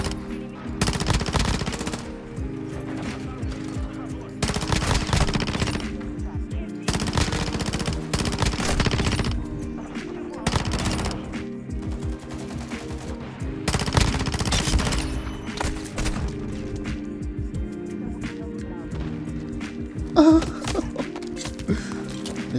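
A P90 submachine gun fires in Call of Duty: Modern Warfare II, loud bursts of rapid automatic shots repeated again and again across the stretch with brief pauses between volleys.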